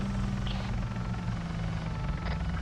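Helicopter overhead in a video game, a steady, loud, continuous rotor drone with deep rhythmic thudding throughout, close and unbroken, no talk.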